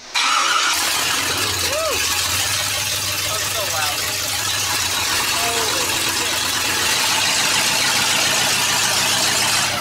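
A car engine cranks and fires up after a crankshaft position sensor replacement, then settles into a loud, rough, steady idle up close, with voices talking briefly near the start.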